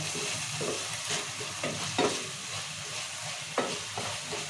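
Green chillies and chopped onions frying in oil in a pan for semolina upma, a continuous close sizzle with occasional sharper crackles and light stirring scrapes, no voices.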